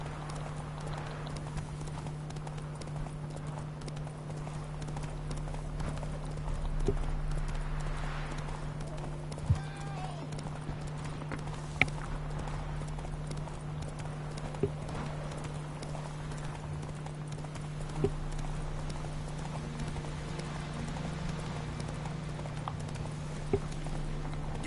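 Hooves clop steadily as a horse is ridden at a walk in The Witcher 3, an even rhythm of soft muffled steps over a constant low hum, with a few sharper knocks and faint distant voices.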